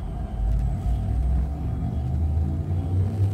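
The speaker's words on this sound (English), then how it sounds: "Drive charging." Spaceship frame shift drive charging up in the Elite Dangerous video game: a deep, steady rumble with a low throbbing swell and a faint sustained hum above it, alone and fairly loud.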